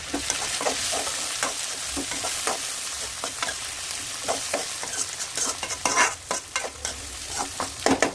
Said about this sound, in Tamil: ஒரு தக்காளியை பொடிசாக கட் பண்ணி அதில் சேர்த்துக்கலாம்.